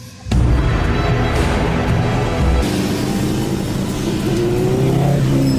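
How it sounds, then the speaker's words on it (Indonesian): A motorcycle pulls into a residential area, its engine a steady loud rumble that swells and shifts as it rides in close, with no talking. "Di area perumahan, sebuah motor masuk."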